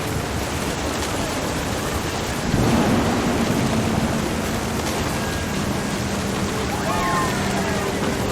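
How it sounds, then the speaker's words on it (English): Deep rolling thunder rumbles through steady rain in the video game What Remains of Edith Finch, swelling midway and lingering with a faint tonal hum underneath. "The thunder sounded much too close and full of angry power"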